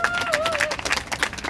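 A comedy-show audience claps and applauds in a short, lively burst during a comedian's presidential impression, with a voice sounding over the clapping.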